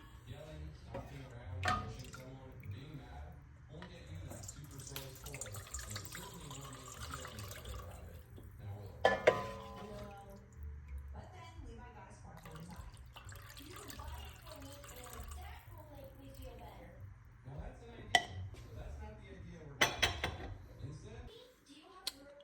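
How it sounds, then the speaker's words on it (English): Homemade chicken stock pours through a strainer with trickling, splashing liquid and scattered clinks of metal and utensils, fairly quiet and close, while a person talks intermittently over it. "I'm just gonna go ahead and strain it one more time just to get more of the loose debris that's in there"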